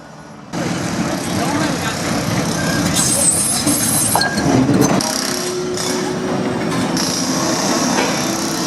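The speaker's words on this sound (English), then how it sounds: "And then we get on a tram to the centre of town." Steady rumble of a tram in motion in Nantes, France, with rattling, rolling wheels and occasional squeals and clunks, heard from inside.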